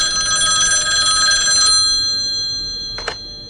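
Telephone bell ringing in a rapid electronic trill for about a second and a half, followed by a short second burst after a pause, with no talking.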